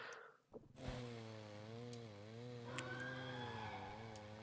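A video-game chainsaw motor in R.E.P.O. buzzes steadily at close range, its pitch wavering up and down with a few sharp clicks on top.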